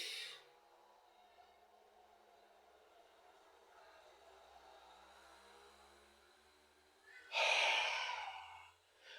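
Deep breathing exhaled through the mouth: a short breathy puff at the start, a quiet stretch, then a long, louder rushing exhale near the end, close and without words.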